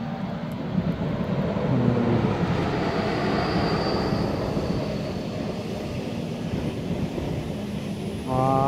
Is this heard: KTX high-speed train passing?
yes